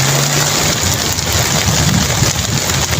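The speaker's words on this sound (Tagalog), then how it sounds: "Sa patuloy na ulan." Heavy rain pours down in a dense, continuous roar over floodwater in Tabunok, Palompon, Leyte, loud and steady throughout with no voices.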